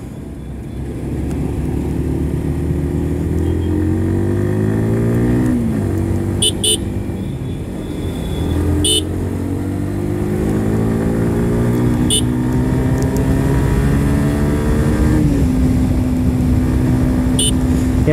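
A Yamaha R15 BS6 motorcycle engine and exhaust hum steadily while it is ridden. The pitch climbs and then drops at several gear shifts, over constant wind rush, with no clear talk.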